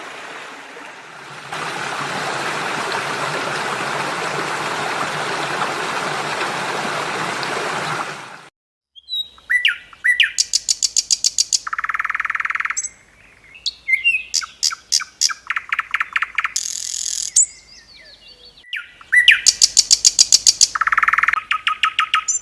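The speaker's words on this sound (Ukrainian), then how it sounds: "спів пташок, що повернулися із вирію." Running water rushes for several seconds, then stops; afterward birds sing in bright, repeated chirping phrases and trills, near and clear, with short pauses between.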